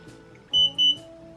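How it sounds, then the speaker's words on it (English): Omnipod PDM chirping as an insulin pod is deactivated: two short, bright electronic beeps in quick succession over quiet room tone. "The beep means it's done."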